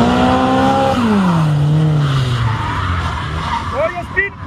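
Drift cars skidding with sustained tire squeal at a drift show paddock, loud and continuous with engine tones sliding up and down, while someone speaks over it.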